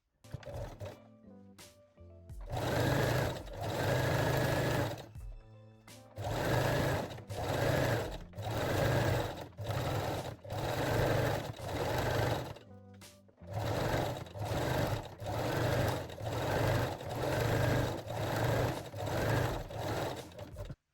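A sewing machine stitches fold over elastic onto low-rise underwear, running in many short rapid bursts with brief stops between them, loud and close with no talking.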